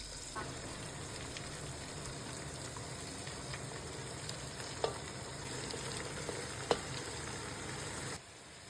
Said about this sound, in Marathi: आणि मग एका कढईत तेल टाकून त्यावरती लसूण टाकून त्याला छान शिजवून देऊ मग त्यामध्ये आपल्या सगळ्या व्हेजिटेबल्स ॲड करून घेऊ आणि छान त्याला मिक्स करून घेऊ